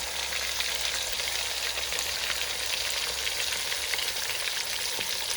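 Continuous loud sizzling of chicken browning in a hot pan, an even crackling hiss with no talking.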